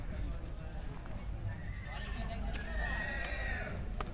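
A mare whinnies in a high, wavering call, close by at the Yeola horse market, with hoof clops and people talking in the background.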